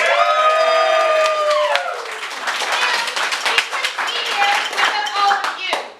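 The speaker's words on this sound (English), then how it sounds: "let's give a big round of applause for the back of house up in the back" Audience applause and clapping for the back-of-house crew at a Spontaneity Improv showcase, a dense sustained patter of many hands, loud and steady throughout, with a sustained tone fading out early and some crowd noise mixed in.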